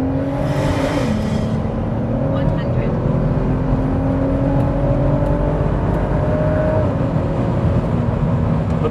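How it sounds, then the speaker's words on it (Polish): Volvo V60 T6 Polestar with a 3.0-litre turbocharged straight-six pulling out of a bend from about 40 km/h, a loud, steady engine drone with a low rising tone, heard from inside the car. "Dobra, jedziemy, słuchajcie, 40 na godzinę, wychodzimy z łuku"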